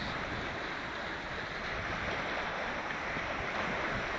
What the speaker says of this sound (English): I feel like I have to yell over the sound of the waves